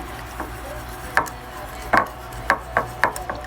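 A utensil knocks and taps against a bowl while mixing egg chips batter with water, giving several sharp, close, irregularly spaced clacks over a quiet background.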